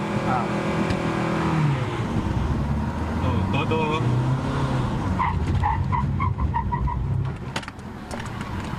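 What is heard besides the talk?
Mitsubishi Montero Sport engine and tires skidding while braking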